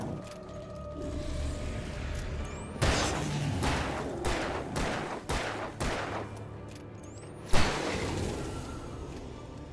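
Bursts of gunfire in the video game Alan Wake crack in rapid succession over a rumbling background, with a heavy single shot near the end.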